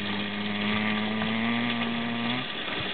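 A small carburetted engine running after being put into drive, with a steady droning hum whose pitch rises slightly and holds as the throttle is worked, then drops near the end; moderate and close.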